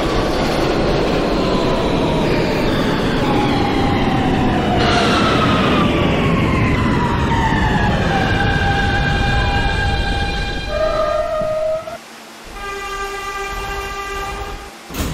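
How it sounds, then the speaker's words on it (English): A Manhattan-bound E local subway train, an R160 in the OpenBVE simulator, rumbles and screeches along the rails, with rising and falling metallic squeals and a brief pause before rolling on again, loud and close. "This is a Manhattan-bound E local train."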